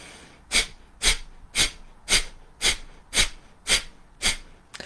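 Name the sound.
forceful fire breath exhales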